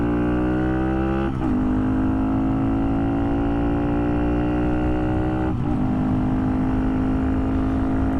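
Small Honda Monkey motorcycle engine droning steadily while ridden, its harmonic hum holding fairly even with two short dips and rises where the rider shifts gears, near and continuous for about eight seconds with no talk.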